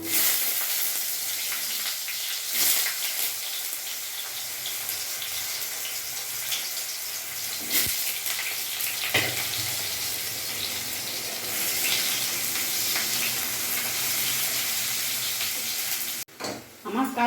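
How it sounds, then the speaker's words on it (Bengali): Raw green bananas frying in oil in a home kitchen, a steady broadband sizzle that holds close and loud nearly throughout, with a few brief knocks and a short break near the end. "এরই মধ্যে আমি কাঁচকলাগুলো ভেজে নেবো"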